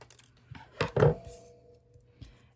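Scissors snipping across a layer of gold cardstock for a handmade acorn easel card, two or three short crisp cuts close up, followed by a faint later snip in near silence.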